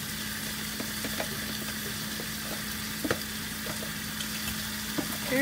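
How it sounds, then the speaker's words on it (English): Carrots and broccoli sizzle and crackle in a hot pan of frying chicken stir fry, a steady close hiss with occasional light stirring clicks. "I'm now going to add in some carrots."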